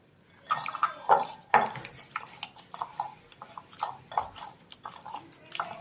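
Fish pieces are mixed by hand with turmeric, chilli powder, salt and lemon juice in a bowl, heard as a series of close clinks and wet squelches at an uneven pace, with no talk.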